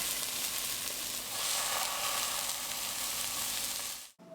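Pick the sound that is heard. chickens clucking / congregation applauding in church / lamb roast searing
lamb roast searing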